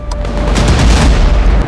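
Heavy, continuous rumbling booms of missile strikes with sharp cracks layered on top, loud and close, like a barrage of explosions rolling together.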